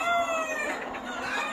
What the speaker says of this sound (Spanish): Es un gallo impresionante de lo de pelear